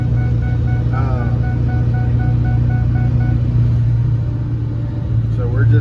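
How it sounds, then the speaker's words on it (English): Inside a 6.0 Powerstroke diesel truck fitted with an S366 turbo, a deep, steady engine rumble drones while driving, with someone talking over it. "So we're just driving here. I just wanted to get a couple sound clips of it."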